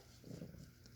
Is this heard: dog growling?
yes